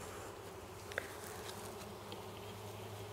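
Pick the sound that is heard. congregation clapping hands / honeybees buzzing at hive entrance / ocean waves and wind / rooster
honeybees buzzing at hive entrance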